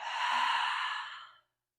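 One deep, long breath exhaled during a yoga breathing practice, a soft, airy rush close to the ear that holds for over a second and then stops into silence.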